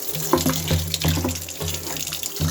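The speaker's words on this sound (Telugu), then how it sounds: "మరి వాటర్తో క్లీన్ చేసుకోవాలి." Tap water runs steadily while meat is rinsed under it, with a few soft splashes and knocks over a continuous, close rushing stream and no talking.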